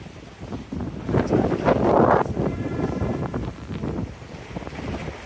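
Wind gusts roar across the microphone during a rainstorm in Tirupati, India, swelling loudly then easing into a steady rushing bluster.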